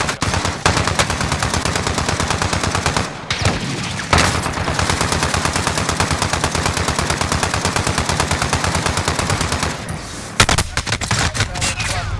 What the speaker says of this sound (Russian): пулемет перегрелся